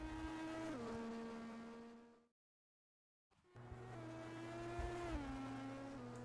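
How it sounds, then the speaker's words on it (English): Onboard sound of a McLaren racing car during qualifying, a loud engine with rising revs and sharp gear-change drops, a brief complete gap of silence, then the engine roaring on again. "We are on board now with the McLaren driver, Antti Lane."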